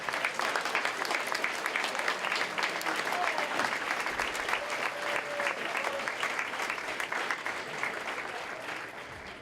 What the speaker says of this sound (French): Donc, une belle main d'applaudissements pour Brigitte et Philippe, s'il vous plaît.